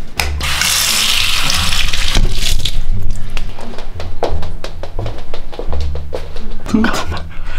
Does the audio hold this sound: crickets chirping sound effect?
no